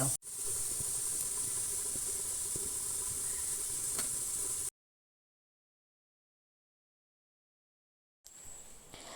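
A steady, loud hiss of steam escaping from a pressure cooker in a home kitchen runs for several seconds, cuts off abruptly into silence, then faintly resumes near the end.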